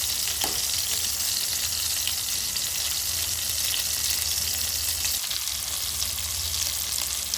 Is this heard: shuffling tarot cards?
no